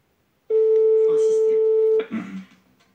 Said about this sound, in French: Deuxième sonnerie, vous pensez qu'il y en aura combien, Héloïse?